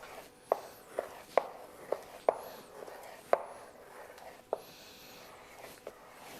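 A knife cuts partially frozen beef into cubes and strips for sausage, striking a cutting board in sharp, separate chops about once a second, near and fairly quiet against a faint background hiss.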